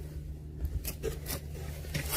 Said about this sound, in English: Just cut the sock in the pipe.